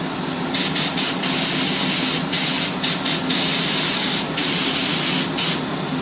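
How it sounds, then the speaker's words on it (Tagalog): A spray gun lays a coat of car paint at about 2 bar inlet pressure over an auto body, ready for clear top coat: short sharp hissing bursts with brief gaps, up close and fairly loud. "Now I will spray"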